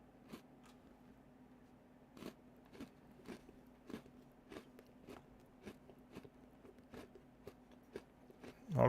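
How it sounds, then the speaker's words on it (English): Someone bites and chews a crunchy Oreo cookie close to the microphone, a series of sharp, separate crunches spaced irregularly over a quiet background hum. "so I'm going to have another Oreo cookie"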